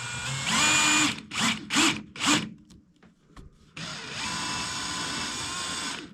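Power drill tapping threads into a diesel fuel tank, running loud in a burst, then several short pulsed trigger bursts, a few clicks, and a long steady run to the end.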